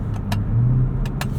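Ford F-150 Raptor R in sport mode, a steady low engine and exhaust rumble from inside the cab, with a couple of faint ticks over the drone.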